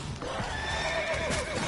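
A horse in the video game The Witcher 3 lets out a short, shrill neigh with faint hoof clip-clops beneath, heard alone and close.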